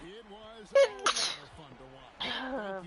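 A single sharp sneeze bursts out near the start amid casual speech, followed by a second short burst, with people talking before and after.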